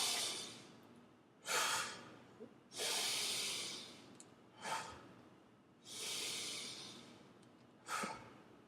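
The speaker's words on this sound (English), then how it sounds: "bellows, like when you take a deep breath." Deep bellows-style breathing exercise: long, loud airy inhales and exhales alternate with short sharp snorting breaths, repeating about six times close to the listener with no talking.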